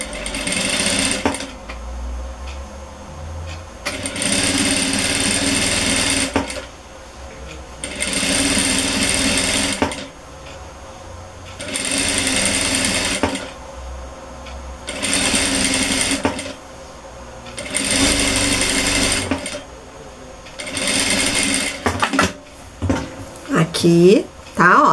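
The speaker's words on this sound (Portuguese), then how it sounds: "Então, vamos lá costurar" A sewing machine stitches along the edge of a dish-towel fabric in a steady, close whirring hum, running in about five sustained bursts separated by short pauses, with a little handling noise at the end.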